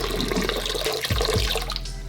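Water poured and splashing over a Lightfox Rigel series LED light bar, a steady close rush of liquid with a couple of heavier sloshing bursts near the middle.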